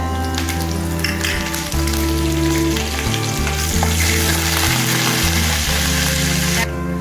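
Mustard seeds, chana dal and curry leaves fry in hot oil, a loud, close, steady sizzle with crackling pops running throughout, while a faint background hum changes pitch in steps underneath.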